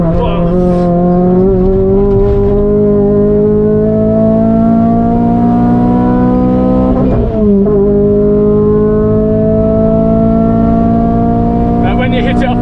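A RenaultSport Clio 200 Mk3 howls loudly on a race track, its engine climbing steadily through the revs to the limiter, dipping briefly at a gear change, then pulling hard again right up close.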